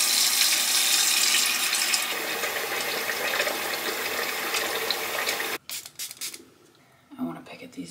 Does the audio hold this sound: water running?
yes